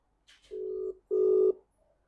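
Ringback tone on a phone call, two long steady buzzing rings separated by a short gap, clear and close, with a brief faint chirp before the first.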